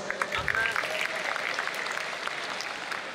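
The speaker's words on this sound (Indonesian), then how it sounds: "Aplaus." An audience at an early-morning Islamic lecture claps steadily for a few seconds, a dense, moderately distant patter of hands with a faint voice underneath.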